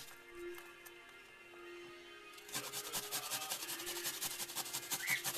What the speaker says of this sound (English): ginger and the garlic for this recipe is on the smallest mill on your cheese grater.